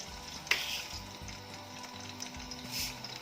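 Mustard seeds and fresh garlic sizzle in hot oil with a soft, steady crackle and a sharp pop near the start, fairly faint and close.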